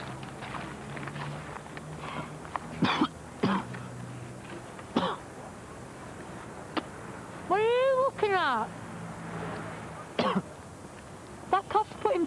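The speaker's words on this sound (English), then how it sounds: "That cough's putting people off." A man coughs and clears his throat in short, harsh bursts scattered across the scene, close and fairly loud, with brief speech and quieter room noise between the fits.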